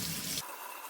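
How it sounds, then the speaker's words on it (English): Warm tap water runs briefly onto matzah being soaked, a close, full gush that cuts off abruptly partway through, leaving a faint hiss. "And now we're going to soak it in water, in warm water."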